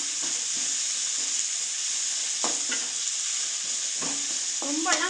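Chopped onion and finely cut ginger sauté in a pan for a wheat-flour veg momo filling, giving a steady close sizzle broken by occasional scraping stirs.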